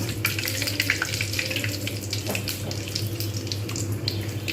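Nigella seeds, a bay leaf and dry chilli sizzle in hot oil for a Bengali bottle-gourd chechki, a steady, close, crackling hiss with no talking.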